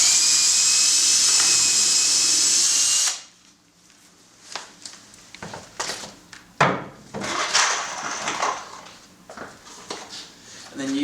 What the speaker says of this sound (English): using your same drill but with a screw bit this time, or a screwdriver.